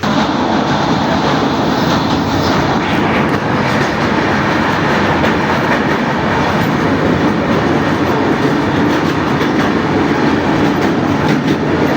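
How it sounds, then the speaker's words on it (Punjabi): A moving passenger train rumbles loudly and continuously from inside a carriage, with a steady clickety-clack of wheels over the rails and no talk. "ਟ੍ਰੇਨ ਤੁਰ ਚੁੱਕੀ ਆ"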